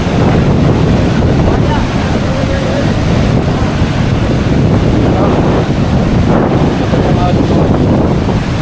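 Huge ocean waves crash ashore hard enough to wreck houses, making a continuous heavy roar of surf with wind buffeting the microphone.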